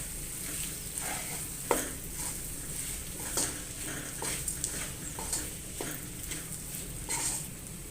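Mashed boiled potato and boiled chicken filling for aloo naan are stirred in a bowl, with soft scraping and patting strokes and a few sharper clinks of the spoon against the bowl, near and fairly quiet.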